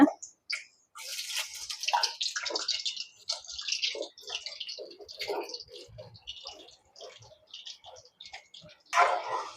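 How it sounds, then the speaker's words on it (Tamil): Small cut pieces of potato fry in a hot pan, giving off quiet, scattered crackles and pops in irregular bursts with short gaps between them. "இப்போ கிழங்கு பொரியட்டுக்கும்."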